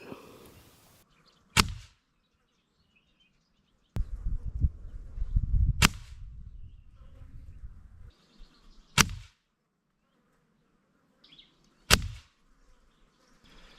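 A Gamo Swarm Magnum air rifle fires pellets at a target, each shot a sharp isolated crack, four shots spaced a few seconds apart with quiet handling noise in between.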